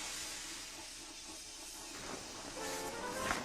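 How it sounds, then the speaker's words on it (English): James the engine lets out a hissing burst of steam that swells louder toward the end, a broad, airy rush with no voices over it. "He was so scared, he let out a huge burst of steam"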